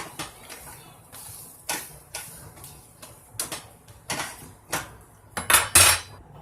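Utensils clink and scrape against a cooking pan as a quesadilla is flipped and pressed down, with a scattered series of sharp metallic taps and scrapes at close range and no talking.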